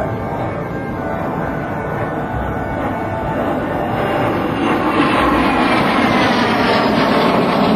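An L-39 jet flies at the 2006 Willow Grove Air Fest, a steady broad engine roar mixed with wind buffeting on the microphone, swelling slightly louder as it passes with no talking.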